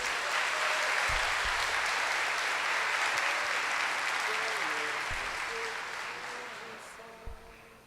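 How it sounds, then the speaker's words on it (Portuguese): A church congregation breaks into sustained applause, a broad wash of clapping that stays strong, then slowly fades toward the end with a few faint voices beneath. "Então dê uma salva de palmas a Jesus."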